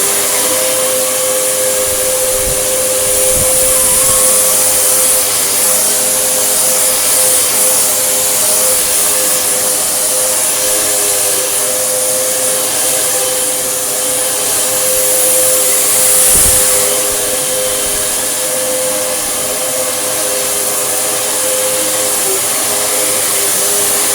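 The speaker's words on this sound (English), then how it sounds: "It's also quite noisy." A Samsung SU3364 upright vacuum cleaner runs loudly and continuously with a steady high whine and airy roar, swelling slightly now and then as it moves.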